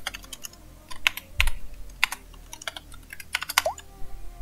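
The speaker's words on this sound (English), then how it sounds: "use your keyboard" Typing on a computer keyboard while playing the Highrise game on a computer, irregular clusters of sharp close key clicks with short pauses between bursts, no voices.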